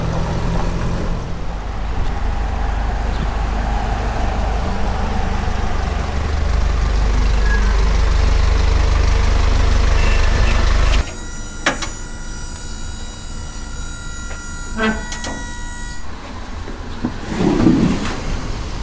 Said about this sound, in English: All right, one of 4 trucks heading out to Columbus.